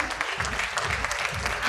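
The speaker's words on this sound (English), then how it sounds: "Ladies and gentlemen, Mr. Avinash Pandey and Ms. Vanita Keshwani, a huge round of applause." An audience at an advertising industry report event applauds Avinash Pandey and Vanita Keshwani, a dense, steady clapping wash with voices talking over it throughout the short stretch.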